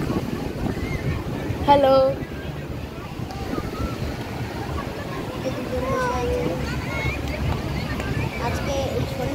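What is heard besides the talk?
sea wind and waves on Puri beach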